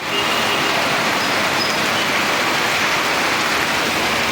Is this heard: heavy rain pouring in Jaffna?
yes